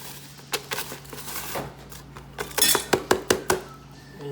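Jiffy corn muffin mix and Jiffy cake mix being mixed in a bowl, with a quick run of clinks and knocks of a utensil against the dish, close and fairly loud, no talking.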